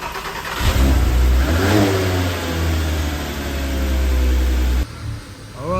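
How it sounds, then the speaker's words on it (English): An Audi A3 3.2 V6 being restored after neglect starts for the first time and revs, a close, loud engine that fires and then climbs and falls before cutting off near the end. "The first start on the V6."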